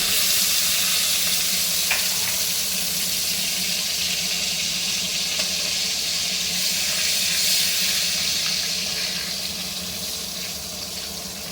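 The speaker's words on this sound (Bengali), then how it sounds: "এবারে না আমি একটু বেগুনটা ভেজে তুলে নেবো" Eggplant fries in fish oil in a pan, a continuous close, loud sizzle that eases slightly toward the end. No one speaks over it.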